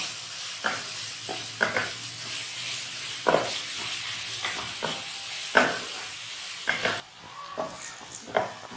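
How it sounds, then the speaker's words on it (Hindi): Onions frying lightly in oil for chana dal with karela, a steady soft sizzle punctuated by repeated sharp scraping stirs, close up and alone with no talk. "ये प्याज हमने हल्की सी इसमें फ्राई कर ली है"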